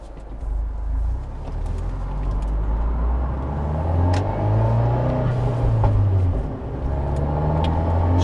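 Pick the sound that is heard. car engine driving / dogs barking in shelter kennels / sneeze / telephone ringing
car engine driving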